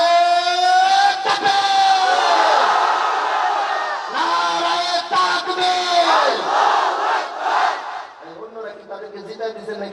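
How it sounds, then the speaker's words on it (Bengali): A crowd of young men at an outdoor religious gathering roars a takbir in unison, loud drawn-out chanted shouts repeated in waves and fading into scattered voices. "শুধু যুবক ভাইরা তাকবীর দিবেন ইনশাআল্লাহ।"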